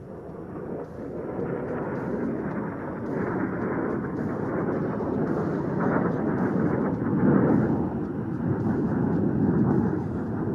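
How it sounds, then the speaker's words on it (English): Indian Air Force Jaguar jets fly low during the Vayu Shakti 2019 firepower demonstration, producing a loud, continuous roar that swells gradually and holds for several seconds with no voices over it. "Look out for the Jaguars approaching from your right, flying low to avoid enemy's radar."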